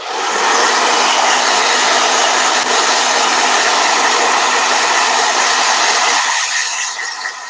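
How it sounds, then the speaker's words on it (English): A blow dryer runs loud and steady at close range, a continuous broadband whoosh for about six seconds before cutting off near the end. "hold on, blow dryer"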